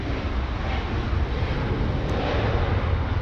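An All Nippon Boeing 787 Dreamliner departs for Narita, Tokyo, from Los Angeles International Airport, its jet engines a loud, steady broadband roar that holds evenly throughout with no voices.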